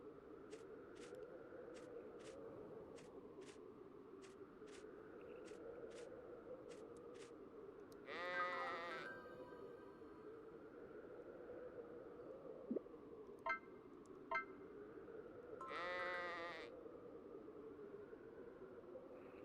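Sheep bleating in the farming video game Harvest Moon: The Winds of Anthos: two short bleats stand out amid chiming game music and small plinking effects, quiet and alone without talk.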